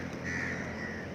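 Crows caw in an outdoor area of Delhi, a single drawn-out harsh call standing out over a low steady background hum.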